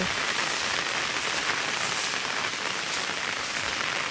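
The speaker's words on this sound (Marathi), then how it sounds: "पाऊस काय थांबायचं नाव नाही घेत आहे" Heavy monsoon rain in the Konkan pouring down steadily by rice fields, a dense unbroken hiss of drops hitting surfaces, with no voices.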